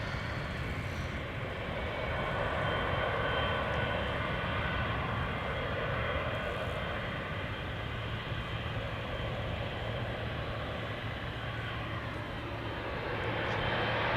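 A heavy widebody airliner takes off from the Polderbaan runway at Schiphol, a steady, broad jet roar heard at a distance that holds evenly throughout and swells slightly at the end, with no talk.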